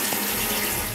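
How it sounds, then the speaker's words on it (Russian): Water rushing steadily from a tap in a Crimean apartment, fed by a basement pump from a storage barrel: a loud, close, unbroken hiss and splash. "Чтобы вода вот так текла из крана"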